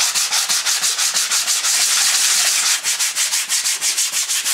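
Paint being rubbed off a metal bash plate, rapid rhythmic back-and-forth scraping strokes, loud and close, repeating in even bursts with a brief smoother stretch midway, with no talk.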